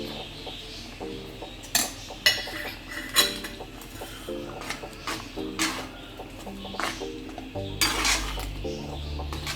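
Metal utensil scraping and clinking against a pan while stirring garam masala and turmeric into vegetable kurma, in irregular strokes, with faint background sounds in between.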